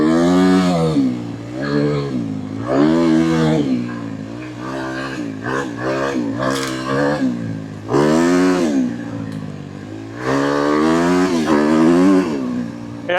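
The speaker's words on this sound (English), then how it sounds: "Holy shit, this bike is fast." A dirt bike's engine screams and revs hard as it rides fast across the Arizona desert, its pitch climbing and dropping repeatedly through gear changes, loud and close throughout.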